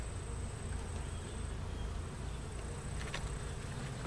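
Honey bees from a small swarm buzz steadily over brood frames in an open hive, a dense, continuous close hum with no voices.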